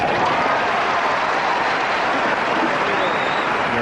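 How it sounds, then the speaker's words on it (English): A thin gallery at the 1985 Forest Hills tennis final claps steadily, a continuous patter of many hands lasting several seconds, with a faint murmur of crowd noise underneath. "This clap we hear from the crowd now is one that says we want a tennis match here."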